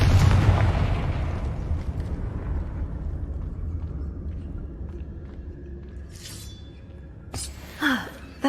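Confringo blasting spell in Hogwarts Legacy, a loud booming explosion that rolls into a fading rumble over several seconds, followed near the end by faint chimes and a short character vocal sound.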